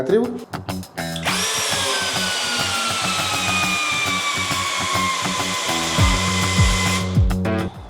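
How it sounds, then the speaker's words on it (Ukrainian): A DWT ASBP 20 cordless drill driving a 300 mm structural screw: a loud, steady motor whine holds for about six seconds under load, then breaks into stuttering clicks and jolts as the drive cuts out. "пробуємо тепер закрутити конструкційний шуруп 300 мм"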